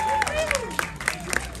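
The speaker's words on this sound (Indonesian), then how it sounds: "Boleh tepuk tangan yang meriah untuk Rudi Sujarwo" A brief patter of audience applause at an Indonesian film presentation, moderately loud and under a voice speaking over it.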